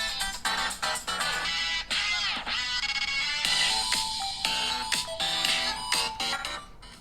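A melodic ringtone plays at max volume through the speaker of a Samsung Galaxy S23 Ultra, a bright, busy run of rapid notes and chimes continuing for several seconds with no talk.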